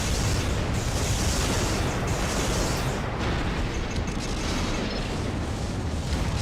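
Missiles striking and exploding in Armored Core combat, a loud, dense roar of blasts and rumble filling the whole stretch with brief surging impacts, no talk.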